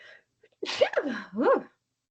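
A single close sneeze during a committee meeting, a sharp intake followed by a loud burst and a trailing voiced release, alone in a quiet room.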